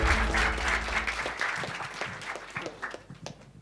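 A seminar audience bursts into dense, even applause that is loud at first and then thins into scattered claps toward the end.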